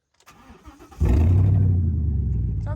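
A Ford Raptor SVT pickup truck engine cranks briefly, then catches and settles into a loud, steady idle close by.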